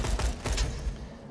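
Rapid gunfire from a weapon in the video game Borderlands 2, a dense run of quick, punchy shots that blur together over about a second, loud and close with no pauses.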